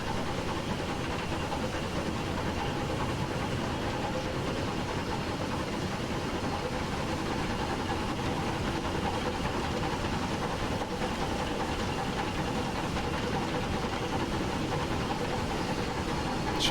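A steam locomotive runs in the Merchant Navy train simulator game, a steady, unbroken roar of hiss and rumbling engine noise that holds level for the whole stretch, with no speech over it.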